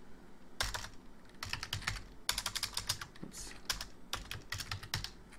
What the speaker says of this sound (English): under here start typing cash